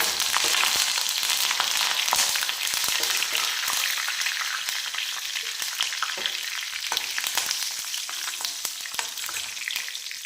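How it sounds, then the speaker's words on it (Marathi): Cumin, mustard seeds and curry leaves sizzle in hot oil with a dense, continuous crackle and sputtering pops, close and steady for the whole stretch, with no talking. "तेल गरम झालंय. आता आपण जिरे, मोहरी टाकून घेऊ. कढीपत्ता टाकून घेऊया."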